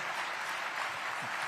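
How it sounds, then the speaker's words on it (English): A crowd at a conservative political gathering in Atlanta applauds, a brief continuous wash of clapping at steady volume throughout. "how about a big round of applause for Eric Erickson, everybody?"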